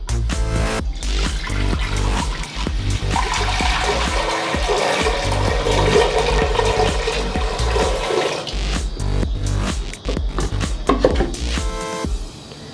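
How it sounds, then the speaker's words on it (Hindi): A jug of water poured into a pressure cooker on a lit stove for cooking whole masoor dal: a loud, continuous rushing splash for about eight seconds, then softer clatter and trickling as the pour ends. "मैं 1 जग पानी डाल रही हूँ।"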